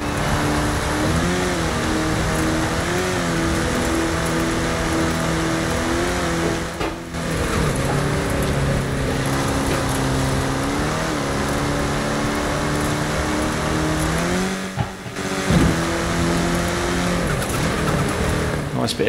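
A race car in a racing video game slides with oversteer, its engine droning steadily while tires squeal in repeated skids through corners, with someone talking over it.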